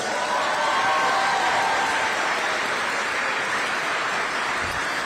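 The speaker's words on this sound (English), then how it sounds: "Give yourselves a round of applause." A high school audience at an awards night applauds in a broad, continuous wash of clapping that stays loud and even throughout.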